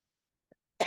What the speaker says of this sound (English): super joints always make me cough real bad